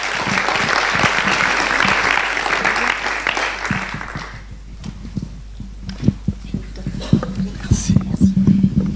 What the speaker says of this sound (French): Donc veuillez l'applaudir